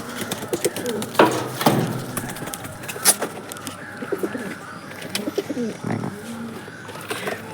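Pigeons in a home loft, adults and young birds, coo repeatedly in soft, low, rolling calls, with occasional wing flutters and a person talking intermittently nearby.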